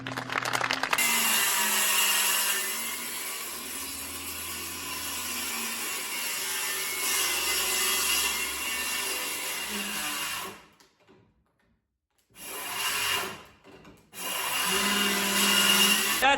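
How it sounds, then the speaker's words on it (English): Power saw cuts an MDF sheet to width with a loud, sustained whine and rough grinding, then spins down into silence before short bursts restart near the end. "let's break down this MDF, and we're going to be cutting this down to 24 3/4 inch width"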